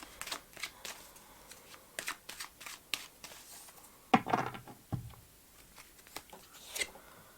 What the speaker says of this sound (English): let me shuffle some extra cards now